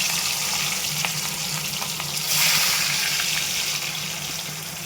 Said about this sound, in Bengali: এক এক করে সবকটা মাছ ভেজে নেব